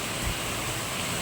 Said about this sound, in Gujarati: આ જૂનાગઢનો ધોધમાર વરસાદ તમને અને અવાજ સંભળાય છે વરસાદનો